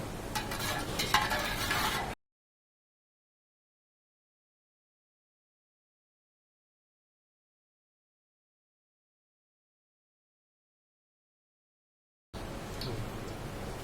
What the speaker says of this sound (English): I am going to heat it first. Going to melt it slightly